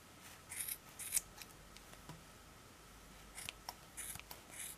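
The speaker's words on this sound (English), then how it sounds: "here around all we need to cut with sharp" Soft, crisp snips of sharp scissors cutting yarn for a pom pom, a few quick closes in bursts with pauses between, faint and close by.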